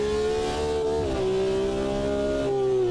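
A classic race car engine in a racing video game holds a steady, smooth mid-speed drone with a slight pitch dip and gear shift partway through, loud and close with no talking.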